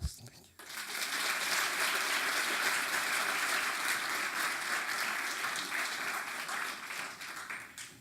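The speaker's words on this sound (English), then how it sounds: "So please make welcome Mr. Lakpatsoko with a great applause." Festival of Tibet audience greeting a guest with a big round of applause, a sudden burst of many hands that swells to a full, loud, sustained roar in a large hall, easing slightly near the end.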